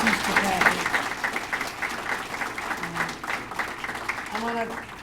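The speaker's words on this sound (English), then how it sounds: "let's give another round of applause to our president, Satish Tripathi." An audience applauds a university president at a Governor Hochul event, sustained clapping that fades slightly, with a voice speaking over it near the end.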